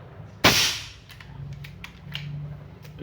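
An RTI Local Best PCP air rifle is cocked with one sharp, loud metallic snap close by, followed by a few faint mechanical clicks.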